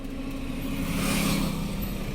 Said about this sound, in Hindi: हैंड ब्रेक में भी गाड़ी चल रही है यार।